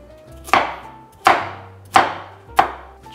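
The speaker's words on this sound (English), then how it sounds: "Now we're gonna trim off the carrot ends." A knife chops carrots on a cutting board in four sharp, evenly spaced strikes, each with a short woody decay, heard close up with no talking.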